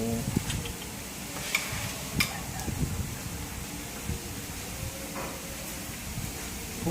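Food boils in a pot with a steady, faint bubbling and sizzling hiss, broken by occasional light clinks nearby.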